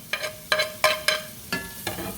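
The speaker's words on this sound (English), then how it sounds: "Get these sauteed. I'm going to turn that fire down a little bit." Vegetables sauté in butter in a hot skillet, the pan scraped about six times in a regular rhythm, each stroke a sharp, ringing clank over a steady sizzle, close and fairly loud.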